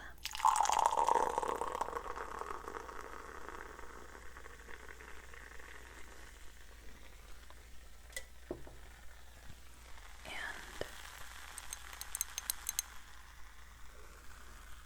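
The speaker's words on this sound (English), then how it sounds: "I can offer you a nice, bubbly water drink" A bubbly, cola-like sparkling water drink is poured, with a brief pour at the start followed by a long, soft fizzing crackle of bubbles up close, occasional louder pops toward the end.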